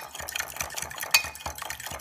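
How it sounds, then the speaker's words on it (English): A utensil briskly stirs maple syrup into eggs in a bowl for protein pancake batter, giving a close, quick run of scraping and tapping strokes with one sharper clink partway through. "Stir that in."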